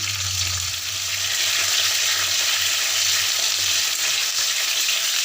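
Diced onions and whole garlic cloves, added with cardamom for a chicken stew, sauté in hot oil with a steady, dense sizzle that holds constant and close throughout, with no voices.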